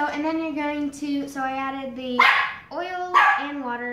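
A puppy indoors gives a couple of sharp, loud barks while someone talks over it in a home kitchen.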